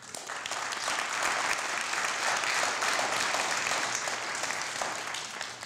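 An audience at a municipal Black History program in Norristown applauds steadily: sustained, dense clapping from a room full of people that swells and then slowly fades.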